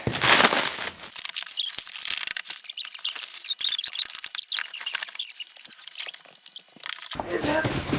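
An espresso machine's shipping box being cut open, close squeaky scraping and tearing of cardboard and tape in uneven bursts, with a brief voice at the start and end.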